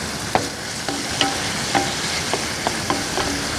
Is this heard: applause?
no